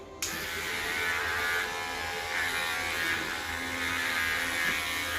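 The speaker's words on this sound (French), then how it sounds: "je vais prendre la tondeuse de finition" An electric hair trimmer buzzes steadily and close after a brief quiet start, a continuous high-pitched hum throughout.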